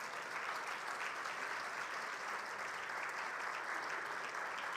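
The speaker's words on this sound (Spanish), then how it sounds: "¿Cuántos pueden darle un aplauso al Señor por eso?" A church congregation applauds during a teaching service, a continuous even wash of many hands clapping, moderately distant and fairly quiet, with no voice on top.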